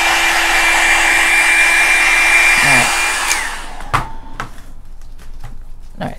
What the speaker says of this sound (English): I'm just gonna dry this with my hair dryer